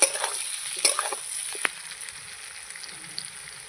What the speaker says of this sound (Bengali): আলু পেঁয়াজ ক্যাপসিকাম ভালো করে ভেজে নিয়েছি।